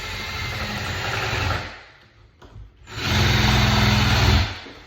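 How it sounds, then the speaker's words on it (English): A drill fitted with a 1-inch paddle bit bores a door knob hole, a steady high whine that fades and drops out briefly before spinning back up loud and close. "We got our 1-inch paddle bit."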